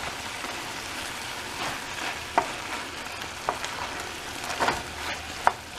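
Beef and vegetables sizzle steadily in a hot pan, with a few sharp clicks and scrapes of stirring scattered through; close and continuous, no voices.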